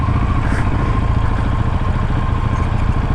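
Motocross motorcycle such as a Honda CRF climbing an offroad hill, engine droning steadily and loud with rough mid-pitched revving and some clatter, close by and without talk.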